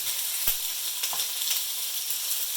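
Chicken thighs sizzle loudly in a frying pan just after being flipped for teriyaki, a dense continuous crackle with a few sharp pops and spatters.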